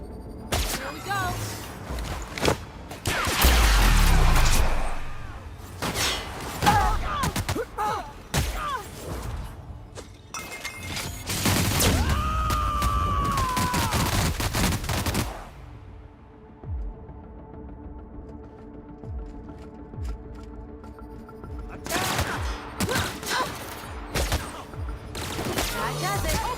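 Gunfire in The Outer Worlds comes in several loud bursts with short pauses between them, mixed with impacts and thuds. Quieter stretches of ambient game sound and a faint voice sit between the bursts.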